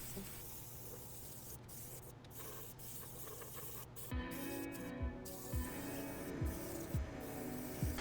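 Paint mists from a spray gun over a replica X-Wing pilot helmet in soft, quiet hissing bursts, the later passes joined by faint rhythmic clicks of the trigger mechanism.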